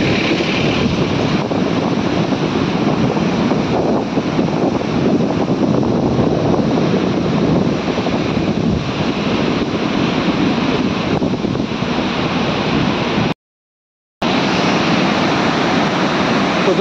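Flood water rushes through the Galudih Barrage as a loud, steady, broadband roar with no talk, briefly cutting to silence near the end.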